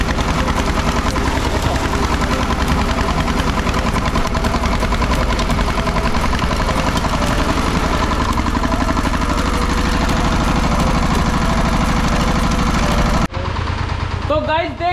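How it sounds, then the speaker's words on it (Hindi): Loud, continuous mid-pitched engine drone of an old, rattly tractor running in a village farm field, steady throughout and cutting off abruptly near the end, with a brief change in sound after. "अपना ट्रैक्टर फिरा के घुमा के यहाँ पे आते हुए"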